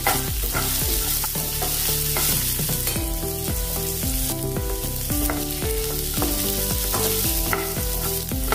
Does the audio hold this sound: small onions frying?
yes